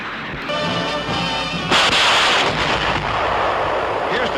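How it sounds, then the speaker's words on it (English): A Sherman tank-mounted rocket launcher fires, a loud blast with a sharp crack followed by a roaring, rumbling rush that trails off, with some narration over it. "the rockets can be shot singly, in groups of 6, or all 60 in a continuous stream"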